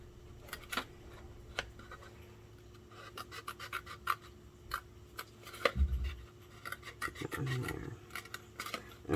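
Pointy scissors snip through scored card for an album box, quiet irregular rasping cuts and rubs close to the microphone, with a few louder handling knocks near the end and no speech.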